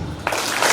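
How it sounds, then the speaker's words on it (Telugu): Applause breaks out at a school reunion, a short burst of dense clapping from a crowd that swells after a quiet start. "క్లాప్స్"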